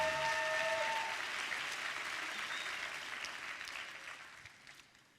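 An audience claps at a church testimony service for a high school student, a dense, even round of applause that starts full and gradually thins and fades over about five seconds.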